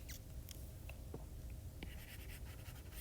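Apple Pencil tip scratching across an iPad screen while erasing line art, light irregular scritching strokes over a steady background hum.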